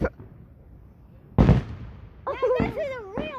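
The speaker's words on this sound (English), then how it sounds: "now this is a real fireworks show." Fireworks show: one sharp firework burst rings out mid-clip with faint crackles around it, while people exclaim and talk excitedly nearby.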